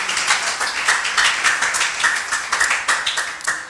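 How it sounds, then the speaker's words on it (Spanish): Congregation applauding for the King of Kings at an evangelical church service in Guatemala: steady, dense hand clapping from many people at close range, with a quick irregular rhythm that carries on throughout. "Dale un aplauso al Rey de Reyes."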